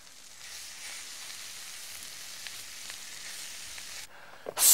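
Curry powder and flour being stirred in a hot pan while cooking bean burgers, a faint steady sizzle with soft scraping, ending in a sudden louder clatter.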